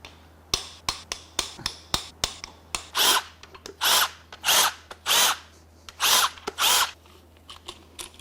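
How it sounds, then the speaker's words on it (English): A power tool unbolts rod cap bolts on a damaged Mitsubishi 4B11T engine: a string of sharp short clicks gives way to several loud, sustained whirring bursts of about half a second each, heard close and without talk. "let's go ahead and unbolt the rest of the rod cap bolts"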